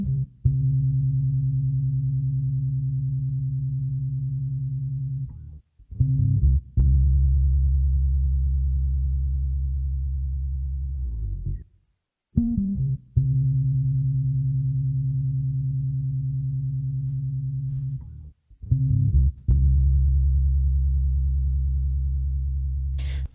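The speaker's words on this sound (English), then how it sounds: "let me play you that bass that was actually sent to me" A deep, sustained synth bass line with a wobbly, pulsing tone, playing long held notes in repeating phrases, with brief gaps and nothing else in the mix.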